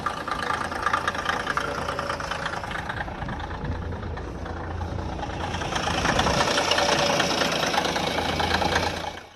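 A running CAT 1693 diesel engine gives a constant mechanical clicking from its valve train over a dense, steady rumble, growing somewhat louder partway through, with no voices.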